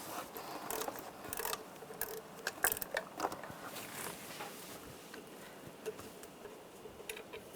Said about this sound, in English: Now take this bolt off. Use a 12mm socket.